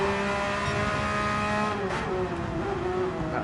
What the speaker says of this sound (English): That Porsche does sound rather angry, doesn't it?